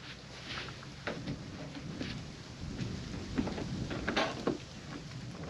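Rain patters steadily on a camping truck with no camper shell while low thunder rumbles through, with several louder crackling bursts near the end and no voices.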